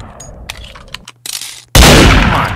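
Gunshots ring out in the Roblox game Murder Mystery 2, with a few light metallic clicks and blips followed by a sudden loud, sustained blast near the end.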